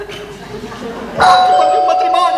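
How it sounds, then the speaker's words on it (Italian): A house doorbell rings partway through, a clear sustained chime that starts loudly and rings on over someone speaking Italian in an indoor comedy scene. "a casa mia suona sempre il campanello"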